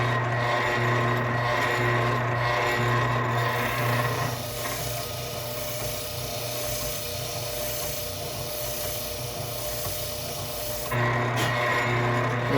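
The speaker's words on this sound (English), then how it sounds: "And this is a 1-inch spindle sander here." A 1-inch spindle sander works wood, a steady motor hum with a continuous rough abrasive rasp that dips in the middle as the piece is eased off, then returns.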